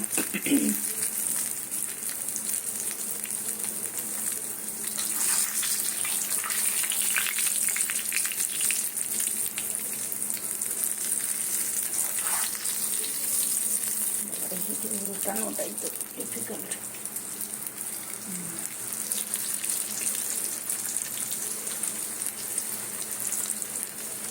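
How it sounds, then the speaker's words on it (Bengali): Moong dal puri deep-frying gently in oil over low heat, a soft continuous sizzle and bubbling with occasional faint clinks, steady and close throughout. "ধিমে আছে সুন্দর করে ভেজে নিতে হবে"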